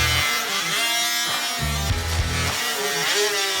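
A string trimmer cutting through a pipe gives a loud, close buzzing whine with a rough, fluttering edge, its pitch dipping and surging as the line bites, continuous throughout with no voices.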